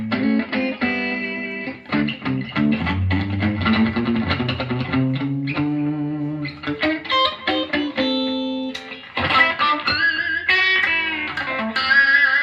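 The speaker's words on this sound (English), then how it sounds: "I was getting worried because I'm hearing distortion." A heavily distorted electric guitar plays chords and riffs, crunchy and sustained, loud and up front with short pauses between phrases.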